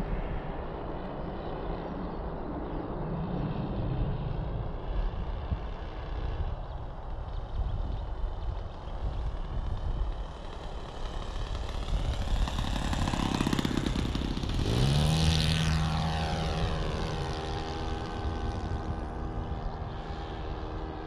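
A new four-stroke nitro engine on a Tiger Moth model plane runs continuously for about twenty seconds, a loud, buzzing drone that swells and shifts pitch midway through as the throttle changes.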